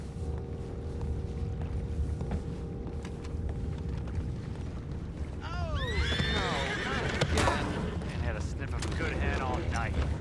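Horses neigh and whinny in Red Dead Redemption 2, with several sharp descending calls about halfway through over a steady rumble of hooves and movement, while voices talk throughout.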